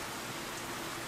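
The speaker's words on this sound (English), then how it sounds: "the rain is coming down even harder" Steady, dense hiss of heavy rain in the World End Syndrome game, an even, unbroken wash of falling water with no voices over it.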